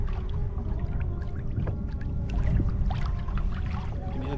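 A passing ski boat's steady low motorboat drone rumbles close by, with water sloshing and splashing over it, rising slightly in the middle.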